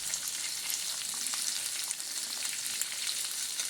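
Potatoes and green peas fry in a pan with a steady, dense sizzle, close and even throughout with no voices.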